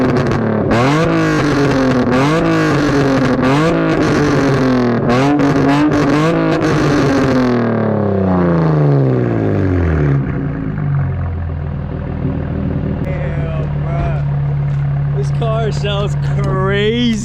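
A Nissan 350Z engine revs repeatedly in rising and falling sweeps, then winds down toward idle with crackling exhaust pops, loud and close throughout.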